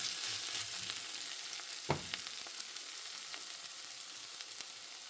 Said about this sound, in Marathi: ते पनीर छान कुक होतं